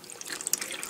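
Water running from a tap to fill a seed-starting container, a short close hiss of splashing liquid, steady and bright with no voices.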